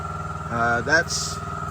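A noisy air compressor runs with a steady, close mechanical drone throughout, and a voice briefly rises over it.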